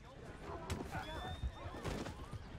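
A horse in Red Dead Redemption 2 gives a quavering whinny amid game noise and hoof clatter, with faint speech in the mix.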